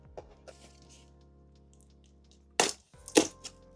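Plastic-wrapped box of a 2019 Manticora action figure from Sexy Ice being cracked open, a few faint taps followed by two loud, sharp crackling tears close up.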